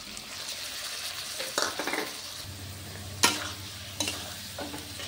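Spice masala with chili and turmeric fries in a pan for an Odia prawn curry. A low sizzle runs under repeated close scrapes and clinks of stirring, with no talk.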